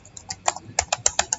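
Fast typing on a computer keyboard, roughly a dozen crisp keystrokes in quick irregular succession, close and moderately loud with no talk.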